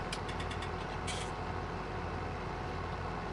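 Steady low tractor engine drone from Farming Simulator 19 during silage work on windrows, continuous and fairly close, with a few brief faint high clicks early on and no talking.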